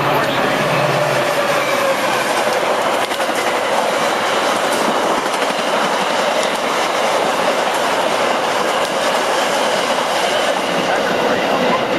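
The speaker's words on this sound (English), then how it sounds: "Metra train approaching your station will be a Metra Express train and will not stop." A Metra Express commuter train comes into a station without stopping, a loud, continuous rumble with steady wheel clatter and some high squeal throughout.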